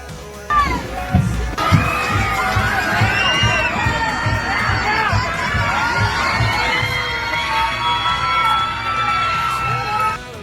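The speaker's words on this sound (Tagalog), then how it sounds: "Sobrang daming tao na nag-aabang sa daan at sigawan kapag dumadaan na ang mga celebrities." A big crowd lining the street at a festival parade yells, shouts and cheers steadily and loudly as celebrities pass, with high children's screams on top.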